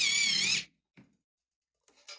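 A pencil sharpener grinds a pencil in one loud, shrill burst of about half a second, followed by silence and a couple of faint taps and scrapes.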